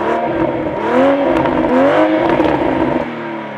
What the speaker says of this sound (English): left the exhaust running while I'm talking to you back here because it just has that really cool rumble